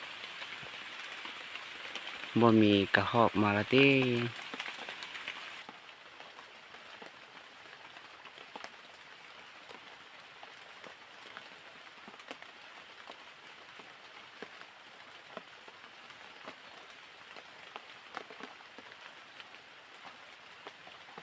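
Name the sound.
rain falling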